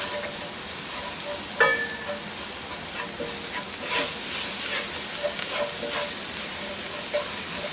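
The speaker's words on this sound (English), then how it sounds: "I'm going to add in my garlic. 3 cloves of minced garlic." Three cloves of minced garlic sizzle in a hot pan, a steady, even crackling hiss up close, with occasional light clicks and scrapes of a utensil stirring.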